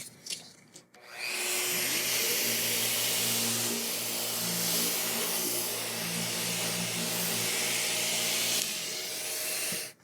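A power sander with 1000 grit sandpaper works over a guitar's finish, giving a steady, loud whirring hiss that starts after a second of handling and runs evenly until it cuts off near the end.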